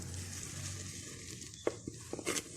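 Turmeric and fish masala frying in oil for a machli ka salan fish curry, a steady low sizzle with a few sharper stirring clinks and pops toward the end.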